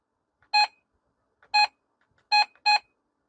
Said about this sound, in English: Roger beep